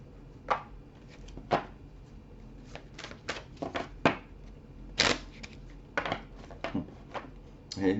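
Tarot cards being cut and shuffled by hand: a run of crisp, papery flicks and snaps, irregular and close, some quick bursts of riffling between brief pauses.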